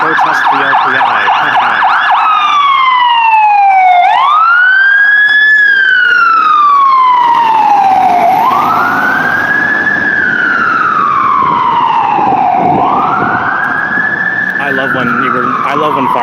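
A fire truck passing through a Toronto intersection with its siren blaring, starting in a fast yelp then shifting to loud, slow rising and falling wails, close and dominant over traffic noise and a voice talking.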